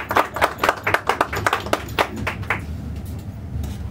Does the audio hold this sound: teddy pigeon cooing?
no